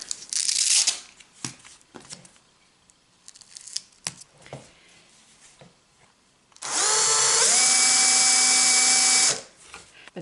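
A small handheld mini craft sander fitted with a sanding disc, heard after scattered handling clicks and taps, then a loud high whir that spins up, holds steady for about three seconds and cuts off.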